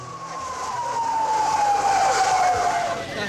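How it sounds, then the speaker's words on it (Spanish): Ambulance sirens wail through a city street in the aftermath of the bombing of an embassy, one tone gliding slowly downward over a dense, noisy wash of traffic and commotion, steady and fairly loud. "Hay ambulancias por todos lados"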